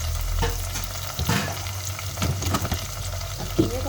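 Minced meat with green chillies and garlic-ginger paste sizzles and crackles steadily in a pan for a cauliflower keema, with a few stirring scrapes breaking through the close, dense frying hiss.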